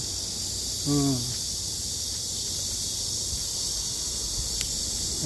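Cicadas sing among trees, a steady high buzzing drone that fills the air throughout, with a brief voice-like sound near the start.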